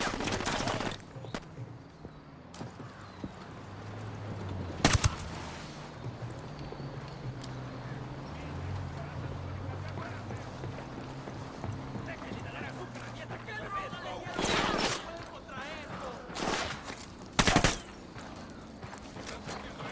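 Gunfire in Tom Clancy's Ghost Recon Wildlands comes as a few sharp, loud bursts spread across a low, rumbling game background, with voices talking in between.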